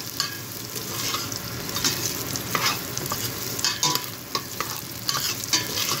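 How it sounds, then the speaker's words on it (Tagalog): Onion and garlic for chicken sotanghon soup are stirred as they sauté in a pot, with close utensil scrapes and clinks over a constant frying sizzle, no speech. "Ating siyang halo-haluin."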